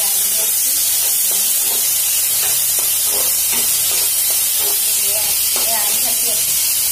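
Small whole potatoes are stir-fried dry in a pan. A loud, constant sizzling hiss sits under repeated light knocks and scrapes of stirring.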